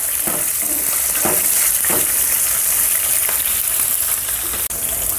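Chopped green chillies fry in hot oil with a loud, constant sizzle, broken by a few soft stirring scrapes in the pan while making tomato bath. Nobody talks.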